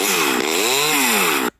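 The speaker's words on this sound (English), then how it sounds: "So I'm gonna chainsaw you." A chainsaw sound effect from a sound button app plays as one loud, buzzy revving burst that sweeps slightly in pitch and cuts off sharply.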